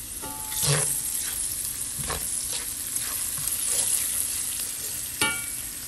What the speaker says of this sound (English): the garlic sauteed for 2 to 3 minutes